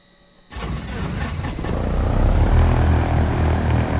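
A Cessna 152 engine starting in a flight simulator: a quiet moment, then an abrupt catch into a rumbling propeller drone that builds and settles into a steady, fairly loud idle.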